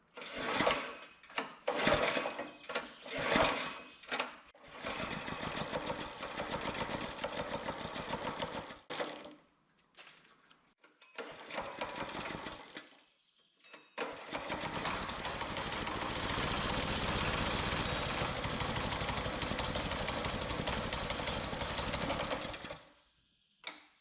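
A cold kart engine revs and sputters in uneven bursts, dropping out briefly, then settles into a steady, loud, buzzing run for several seconds before cutting off.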